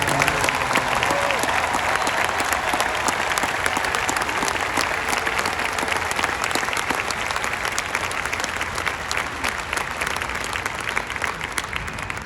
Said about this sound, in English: everybody give them a round of applause and encourage them